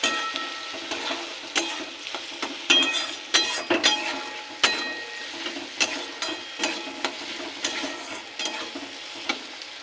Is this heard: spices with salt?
yes